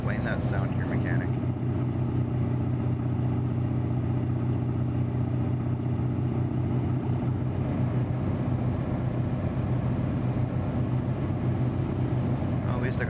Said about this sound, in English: if this was real life and my truck sounded like that